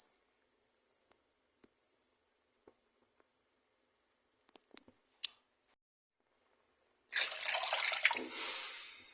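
Water poured into a cooking pot for a green chickpea pulao, a steady splashing rush that begins after several seconds of near-silence broken by a few faint kitchen clicks and continues to the end.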